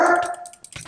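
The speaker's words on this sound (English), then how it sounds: "I gotta shut my dog up." Pet dog barking indoors in a room, a single sharp bark followed by a short quieter yip, close and loud.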